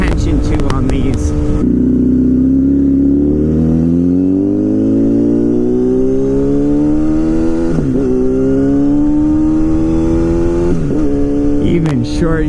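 An old liter-class motorcycle accelerates with a loud, rising engine drone, short-shifting at low RPM so the pitch climbs slowly and breaks at a few gear changes, with wind rush throughout and a voice speaking over it.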